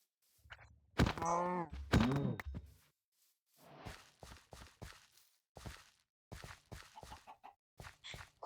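Minecraft chickens cluck in short bursts alongside soft in-game thumps and footstep-like taps, with a louder cluster of squawky clucks early on and scattered quieter clucks afterward.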